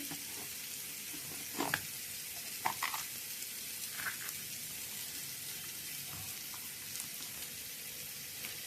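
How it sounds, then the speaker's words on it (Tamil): Chopped vegetables sauté in a hot pan with an even, constant sizzle, broken by a few brief clinks and scrapes of stirring, close and fairly quiet. "நல்லா வதக்கிடலாம்"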